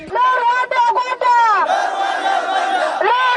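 Crowd of Eritrean and South Sudanese asylum seekers protesting deportation in Israel, voices raised in loud sustained chanting and shouting, with brief breaks between cries, close and continuous.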